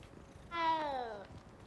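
A cat meows once in Hogwarts Legacy, a single drawn-out, clear meow of about three-quarters of a second that starts high and slides downward, heard near and alone over quiet game ambience.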